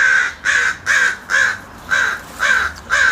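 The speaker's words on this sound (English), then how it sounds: "I look forward to making friends with the crows." Crows give seven loud, evenly spaced caws close by, each harsh call about a third of a second long with brief gaps between them and no talking.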